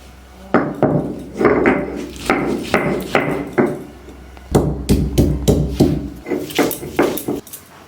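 Ginger and garlic pounded into a paste with a grinding stone, a series of firm, rhythmic thuds close up, in quick bursts with a short pause midway, and no talking.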